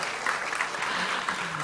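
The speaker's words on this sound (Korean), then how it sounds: "박수 좀 쳐주세요." Audience applause at a TEDx talk in Haeundae, a dense steady patter of many clapping hands filling the room, loud and continuous throughout.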